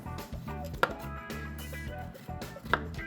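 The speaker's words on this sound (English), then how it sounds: "and again, just finely chop." Knife finely chopping peeled fresh galangal on a board, with two sharp knocks standing out over a steady background of continuous music-like tones and quiet rustling.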